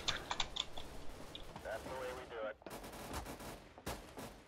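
Rapid submachine gun bursts in Counter-Strike: Global Offensive, several short sharp volleys with clicking mechanical handling sounds between them, moderately loud and close.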